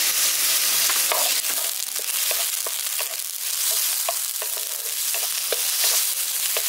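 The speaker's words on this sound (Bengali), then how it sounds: "মশলাটাকে কষিয়ে নিচ্ছি।" Spices with Kashmiri chili powder and turmeric fry in a pan, giving a loud, steady, crackling sizzle close up with scattered stirring scrapes.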